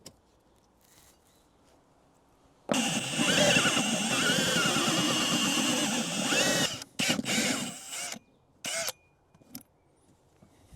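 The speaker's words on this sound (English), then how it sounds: "So let's grab a drill and drill a couple holes." A power drill bores holes in a raised garden bed, a loud whining drive of about four seconds, followed by a few shorter bursts and pauses as the bit finishes.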